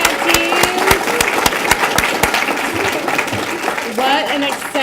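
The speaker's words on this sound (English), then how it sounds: "Let's give one more round of applause to our great grantees." An audience at a nonprofit think-a-thon applauds the grantees, a sustained patter of many hands clapping at a steady, moderate loudness, with a voice starting to speak near the end.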